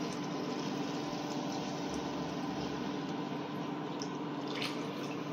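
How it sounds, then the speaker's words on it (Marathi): Hot water being poured into rice in a cooking pot while making chicken biryani, a steady continuous rushing pour with faint dripping, fairly quiet and unbroken, with no talk over it. "आता हे गरम पाणी मी ह्याच्यामध्ये घालणार आहे"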